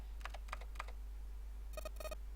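Computer keyboard typing sounds from the video game 999 (Nine Hours, Nine Persons, Nine Doors): a few soft key taps, then two brighter beeping chimes, heard alone over a steady low hum.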